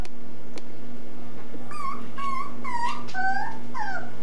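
A dog whimpers and yips in a series of high, wavering whines, close and fairly loud, with a faint click early on and no talking.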